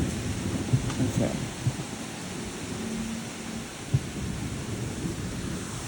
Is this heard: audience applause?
no